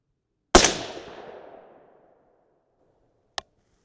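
A suppressed AR-10 in 6.5 Creedmoor fires a single loud, close shot whose sharp crack trails off in a long echoing tail, followed a few seconds later by a faint short click.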